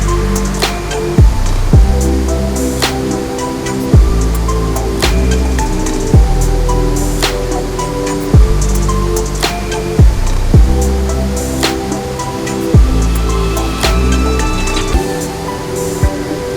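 A fast, bright blue mountain stream rushes under a glass bridge over smoothed rocks into a gorge at the Akhki Tai tourist complex in Benoy, with waterfalls nearby. It makes a steady, full rushing roar throughout, mixed with a tuneful music bed.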